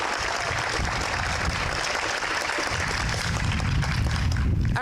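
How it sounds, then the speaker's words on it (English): An awards-ceremony audience at a staff recognition event claps for the nominees, a dense, steady round of applause that holds at even strength throughout with no voices on top. "A round of applause for all of the nominees together."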